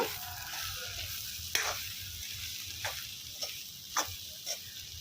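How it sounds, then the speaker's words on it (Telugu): Amaranth greens curry fries quietly in a pan under a soft continuous sizzle, with a few light spoon scrapes and taps against the pan as it is stirred. "ఇప్పుడు ఇది బాగా కలుపుకుందాం"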